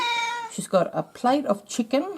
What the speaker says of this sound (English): Sorry about the cat, but she's in one of her squawky moods where she just meows.